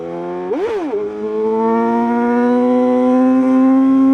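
BMW S1000RR sport motorcycle engine revving hard during a wheelie, a sharp climbing rev that peaks and drops, then a steady high-pitched drone that slowly rises as the bike holds speed, loud and close with no talk.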